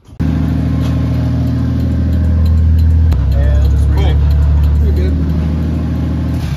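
A Kei truck converted to electric power, running while jacked up with its wheels free, giving a loud, close, steady droning hum with shifting tonal whines.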